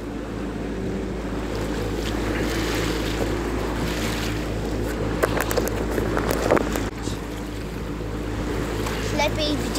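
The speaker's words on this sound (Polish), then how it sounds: "Bywały dzisiaj gorsze fale." Lake waves slap and splash against a small boat on the Masuria lakes, a steady wash of water under strong wind buffeting the microphone, close and continuous.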